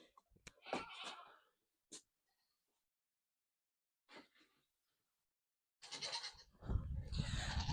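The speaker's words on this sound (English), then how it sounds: "these goats are gonna be super noisy" A few short, scattered goat bleats with long quiet gaps, then a louder burst of overlapping farm-animal cries close by near the end.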